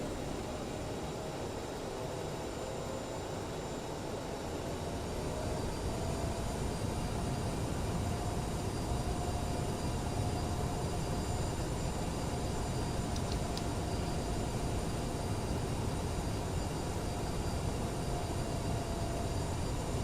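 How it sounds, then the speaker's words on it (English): A CRJ regional airliner taxis toward runway 30 in Microsoft Flight Simulator 2020, its steady jet engine rumble and broadband whine droning continuously and evenly throughout, with no talk over it. "Taxiing over to runway 30."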